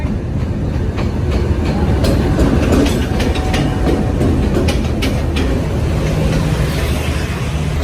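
A train stands at a station platform as passengers load luggage, with a steady, loud rumble of rail noise and faint clatter running throughout, no voices.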